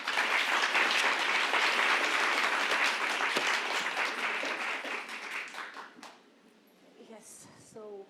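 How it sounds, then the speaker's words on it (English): An audience claps loudly and steadily for about six seconds to welcome panelists at a literary conversation event. The applause then fades into a moment of quiet before a single voice begins speaking. "let's welcome our panelists with a big round of applause"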